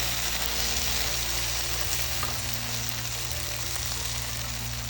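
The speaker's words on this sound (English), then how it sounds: "we'll be just effectively frying it with the oil in it" Continuous sizzling and crackling of tomatoes frying in oil for lentil dal, close and steady throughout, with a low hum beneath.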